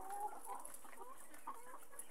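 Adult chickens held in H-type cages cluck continuously at moderate distance, overlapping calls with occasional higher squawks over a steady background murmur.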